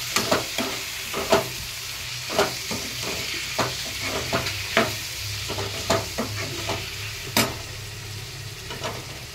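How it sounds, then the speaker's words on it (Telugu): Tomatoes, onion and fenugreek leaves sizzling in a pan, a steady close frying hiss broken by regular scraping strokes of a spoon stirring the mixture. "టమాటాలు మగ్గుతున్నాయండి."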